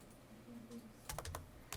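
Quick bursts of keystrokes on a computer keyboard, typing letters into motion-graphics software; a few close, crisp clusters of clicks after a quiet start, with no talking.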